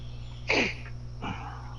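A single sneeze sounds nearby during a casual round of golf, a short sharp burst followed by a softer second exhale, over a steady low background hum.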